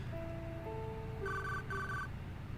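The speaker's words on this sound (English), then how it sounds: "Unexpectedly, his cell phone rang." A cell phone rings in 428 Shibuya Scramble, playing a soft rising two-tone melody and then a brighter repeated trill, quiet and alone over faint background hiss.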